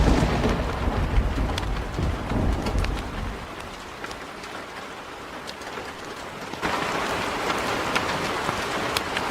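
Steady rain pours across the whole stretch, with a few sharp cracks and rumbles of thunder rising out of the downpour; a heavier low roar at the start fades away and the hiss grows brighter near the end.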